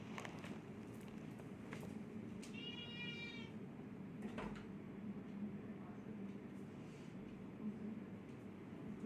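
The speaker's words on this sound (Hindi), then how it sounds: "मेरी बिल्ली को ना बाहर जाना था, सो मैं उसको थोड़ा सा छोड़ करके आई, बिकॉज वो रोए जा रही है" A pet cat meows plaintively, wanting to be let outside, its cry rising clearly around the middle of the stretch over a steady low background hum and scattered clicks.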